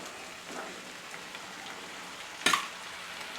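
Seven finely chopped tomatoes fry in hot oil in a pan for tomato thokku, hissing with a soft, steady sizzle. One brief, louder clatter comes as they are stirred.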